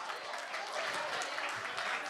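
An audience at a gala applauds, a steady, dense patter of many hands clapping close by across the whole stretch, with some murmuring voices mixed in beneath it.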